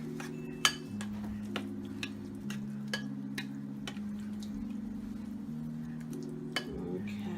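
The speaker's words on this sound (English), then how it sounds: "Stir all that together." A spoon stirs a dessert mixture of mini marshmallows in a bowl, making light, regular clicks and scrapes over a soft, steady background hum.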